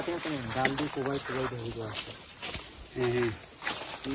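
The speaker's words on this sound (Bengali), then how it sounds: "এই তো ঝিঝি পোকার ডাক।" Crickets in a hill forest keep up a steady, high, continuous drone through the whole stretch, running beneath people talking in the foreground.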